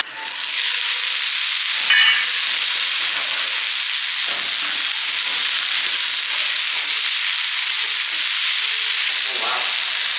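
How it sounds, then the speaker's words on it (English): Gnocchi and cheese fry in a small, crowded pan, giving a loud, dense, continuous sizzle that holds steady throughout, with a couple of faint stirring scrapes. "So we're just going to chuck all this in there, fry it up"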